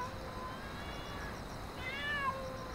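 A cat meows at night, a short rising-and-falling cry near the end over a low, steady background hiss, with a fainter earlier call before it.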